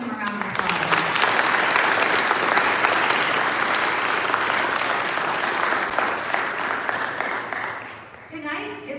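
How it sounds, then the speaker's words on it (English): Loud sustained applause from an audience at a school commencement ceremony fills the room for several seconds, then fades as a voice begins speaking. "Please give them a round of applause."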